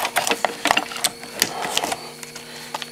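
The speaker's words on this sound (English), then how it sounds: "you need to take these two 10-millimeter" Two 10 mm bolts being loosened and removed from a Honda Rincon 680 ATV engine, a rapid series of sharp metallic ratchet clicks and clinks close up, steady and busy throughout with no talking.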